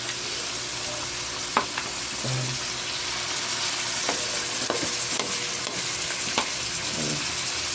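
Chicken and vegetables sizzle steadily in a pan for the whole stretch, with repeated scraping strokes of a utensil stirring them at irregular intervals and no talk.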